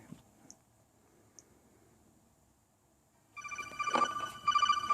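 After a few seconds of faint rustling and taps, a Metal Gear video game theme ringtone bursts in from a Samsung Galaxy Gear smartwatch, a bright, tonal melody playing loudly from the small device.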